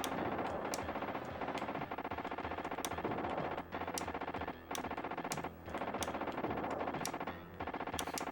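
Rapid gunfire in the SNES shooter T2: The Arcade Game, dense continuous machine-gun rattle over game music, with sharp bursts recurring throughout at steady loudness.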